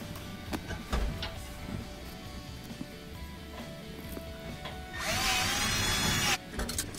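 A power drill whirs in a short burst, driving two screws into a gas oven part, after some clattering and handling noises, then stops abruptly; a few knocks follow.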